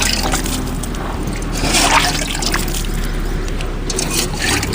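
Water is poured steadily onto unpolished toor dal mixed with red soil, a continuous close trickle and splash running throughout under faint background noise.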